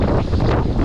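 Strong wind gusting across an open spot by the water during a fishing outing, a steady loud roar buffeting the microphone for under a second with no voices.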